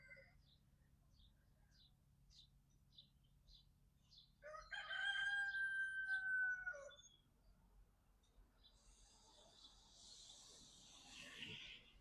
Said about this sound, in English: Doggone Rooster ain't playing this morning.